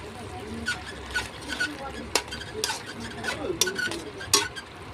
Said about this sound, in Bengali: তারপরে এই মশলাগুলো দিয়ে আমরা ভালো করে কষবো